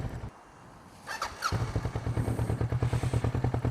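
A Kawasaki motorcycle engine, quiet at first, picks up and settles into a loud, steady, rhythmic pulsing idle close by.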